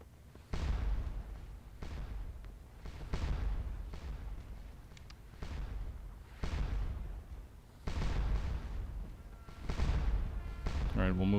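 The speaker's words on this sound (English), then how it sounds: "You can hear the artillery's already starting to open up." French artillery in Scourge of War: Waterloo fires in a series of deep, distant booms, about eight separate rumbling shots at irregular intervals, with speech heard between them.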